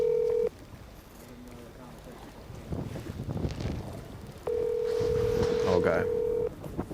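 A phone call placed from a boat during a bass fishing tournament on the Arkansas River: a steady dial tone, a brief pause with wind and murmuring, then a rapid burst of keypad touch tones over a long steady tone, with wind buffeting the microphone throughout.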